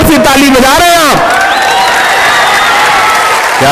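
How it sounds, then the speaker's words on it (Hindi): After a voice speaks briefly, a large audience at a mushaira poetry recital in Belgaum breaks into loud, sustained clapping that continues steadily to the end. "बड़ी कमजोर सी ताली बजा रहे हैं आप"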